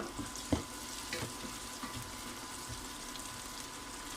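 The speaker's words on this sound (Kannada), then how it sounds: "ಈಗ ನಾನಿಲ್ಲಿ ಜಿಂಜರ್ ಮತ್ತು ಗಾರ್ಲಿಕ್ ಹಾಕೊಳ್ತಾ ಇದ್ದೀನಿ, ಅದನ್ನು ಕೂಡ ಹಾಕಿ ಫ್ರೈ ಮಾಡ್ತಾ ಇದ್ದೀನಿ." Ginger and garlic sizzle in a pan for vegetable pasta, a faint, steady frying crackle with a few soft knocks and stirring scrapes.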